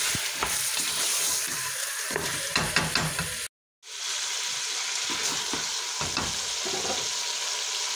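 Meat sizzles and fries with spices (turmeric, pepper, ginger) in a couscous pot, a steady close hiss with stirring scrapes, cut by a brief silent gap midway.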